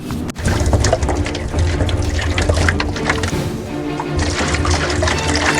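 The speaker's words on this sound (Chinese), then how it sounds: "我们拿另外一个容器倒入我们的过氧化氢" Hydrogen peroxide poured steadily into a container, a continuous close splashing and trickling liquid flow lasting throughout, loud and unbroken after a brief start.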